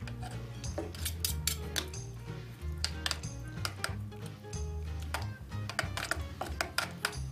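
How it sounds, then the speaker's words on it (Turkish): A utensil stirs salt into milk curd for strained cheese, producing repeated quick scraping and clinking taps against a bowl in a busy irregular rhythm, close and fairly quiet. "Ve iyice karıştıracağım."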